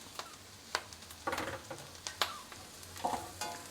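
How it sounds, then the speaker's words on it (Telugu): Mushroom pieces frying in a pan with butter vegetables, a soft continuous sizzle broken by scraping stirs and clinks of the spoon, fairly quiet and close. "ఇప్పుడు కొంచెం లైట్గా ఫ్రై అయిన తర్వాత కట్ చేసి పెట్టుకున్న మష్రూమ్ ముక్కలు వేసేసుకోవాలి."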